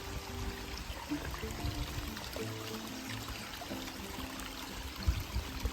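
Rainwater runoff from overnight rain trickles and gurgles in a small stream along a hiking trail, a faint, continuous burbling wash with scattered low splashes.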